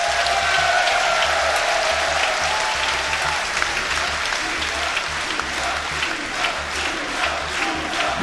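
A large crowd at the Yu-Gi-Oh! TCG World Championship applauds steadily throughout, a dense wash of clapping with a few scattered shouts and cheers rising above it.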